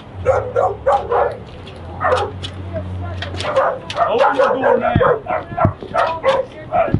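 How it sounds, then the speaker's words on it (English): A dog yips, barks and whimpers in short repeated bursts inside a house during a police call, mixed in with several people talking over it. "All right, put that dog in that room."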